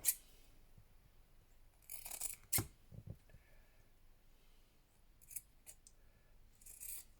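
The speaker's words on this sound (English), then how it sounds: "Shall I see if I can cut out that paw?" A few crisp snips of scissors cutting paper, close by, in short bursts separated by quiet pauses.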